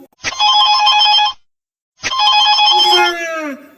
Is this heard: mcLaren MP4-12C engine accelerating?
no